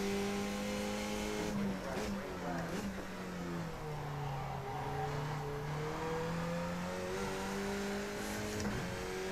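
Race car engine in the iRacing sim during a qualifying lap, holding a steady high drone that dips and climbs with gear changes and brief tire squeal, continuous without talk.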